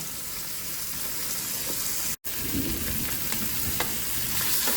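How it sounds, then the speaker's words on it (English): Skin-side-down chicken breasts sear in a Ninja Speedi cooker, giving a dense, constant frying hiss that cuts out for an instant midway and then resumes; no one talks. "I got them skin side down searing"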